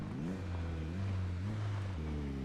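A motorcycle engine in the video game Project Zomboid hums steadily while reversing, its pitch rising and dipping slightly, loud and close with no voices.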